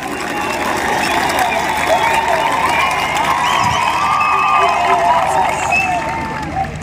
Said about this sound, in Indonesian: Teriak semuanya.